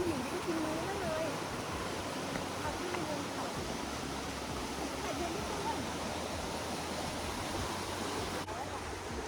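A tall, hard-falling waterfall, Mok Fa Waterfall near Chiang Mai, roars in a steady, dense broadband rush that fills the whole stretch without pause, loud and continuous.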